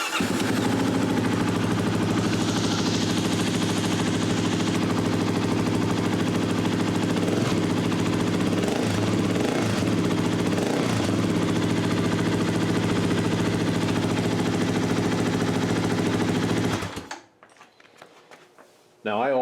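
A 2021 Kawasaki KLX300S dual-sport motorcycle fitted with a slip-on exhaust idles and revs loudly up close, a steady droning engine note with brief throttle blips, then cuts off abruptly near the end.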